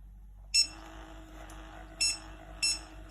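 Short, sharp electronic beeps from a cordless electric knee massager powering on sound several times, spaced unevenly, close and clear over a faint low hum.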